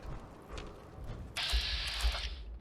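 Bolt-action rifle in Fallout 4 being worked: a quiet clicking then a sharp metallic bolt slide with a couple of low thunks, close and clear, no talking.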